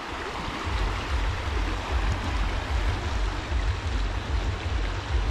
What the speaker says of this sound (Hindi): देखिए पानी की रफ्तार कितनी तेज़ है यहाँ पे